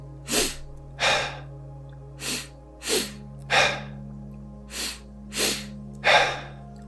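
Breathing in a steady rhythm, close and quiet: paired quick sniffs in through the nose followed by airy breaths out through the mouth, repeated several times against a faint hum.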